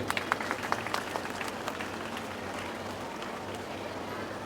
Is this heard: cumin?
no